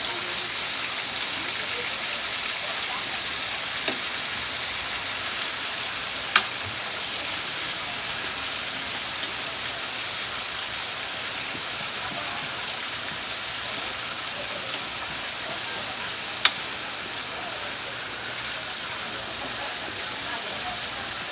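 Garlic and onion sizzle steadily in hot oil for a Filipino home-cooked dinner, a continuous close frying hiss with a few sharp pops and crackles scattered through it, no voices.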